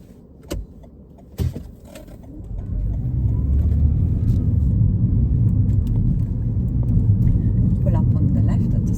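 A car pulls away on a road during a driving test, with a couple of clicks and knocks inside the cabin before the engine and tyre rumble rise and hold steady.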